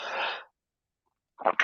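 A single short breathy sneeze burst at the start, close and clear, followed by a pause and then two quick sniffs or small exhalations.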